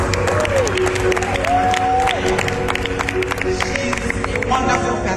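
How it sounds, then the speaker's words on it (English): Clapping and cheering from guests at a real estate company's ninth anniversary event, moderately loud, with voices and a tonal whistle or music-like line running through the crowd noise. "give a round of applause to Gtexthomes"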